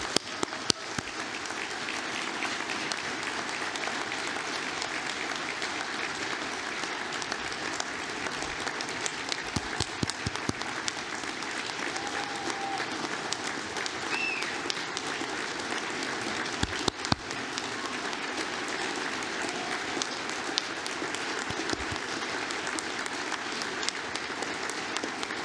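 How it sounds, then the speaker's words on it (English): A crowd at an award dinner keeps up sustained applause for over twenty seconds, a steady wash of many clapping hands with occasional sharper, louder claps standing out near the listener. "every time we clap for Hugh, I do a special clap"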